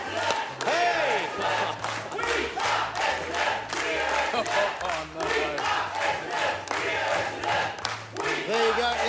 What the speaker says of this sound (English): So we've decided to bring in the Essendon cheer squad.